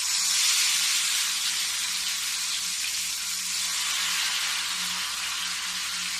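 Ghevar batter spooned from above into hot ghee, a loud, steady, close frying hiss and sizzle that holds constant throughout.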